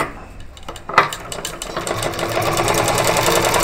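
An electric sewing machine stitches cloth in a tailoring lesson, starting up after a second and then running loud and steady with a fast rhythmic mechanical clatter close to the listener.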